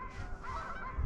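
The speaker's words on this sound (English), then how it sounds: "Got some geese coming in." Geese honk repeatedly as they fly in over a snowy river at sunset, the calls fairly close and steady over the whole moment with no talking.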